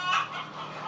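Laying hens cluck and chatter in an egg barn holding about 7,000 birds, a busy overlapping chorus of nearby clucks with no talking.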